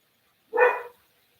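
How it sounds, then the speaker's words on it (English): A single short, sharp bark from a dog rings out close by against silence. "She barks over nothing."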